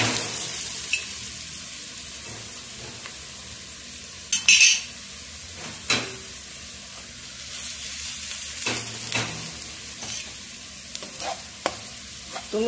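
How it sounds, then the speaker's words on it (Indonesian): Three kinds of whole spices frying in ghee, a soft continuous sizzle with occasional scrapes and taps of a spoon against the pan, and a couple of brief louder clatters. "Tumis sampai garing ya."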